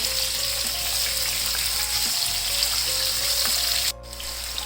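Potato slices fry and are stirred in a pan, a loud steady sizzle close up with scraping stir sounds, ending in a sudden brief cut before the frying continues more quietly.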